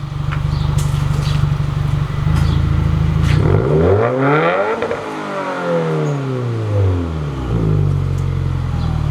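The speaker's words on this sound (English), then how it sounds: "Just give it a few good revs." A Subaru WRX engine revs up, drops back and revs again in a few loud surges, close by, then settles toward idle.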